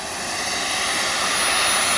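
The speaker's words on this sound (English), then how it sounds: "I'm just letting it run on jet." A jet turbine powered R/C truck runs at light throttle, giving a steady, loud, high-pitched turbine whine and roar that builds slightly over two seconds.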